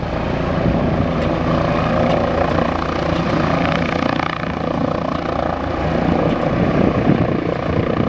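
Air ambulance helicopter taking off, its rotor and engine roaring loud and close in a steady, continuous wash with a faint rhythmic beat, no voices audible.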